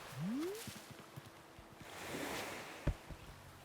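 Gentle ocean surf on the shore of a gothic-themed Animal Crossing island, soft and low-level waves washing steadily beside a small seating spot, with a few small game sound effects and a short rising chirp layered on top.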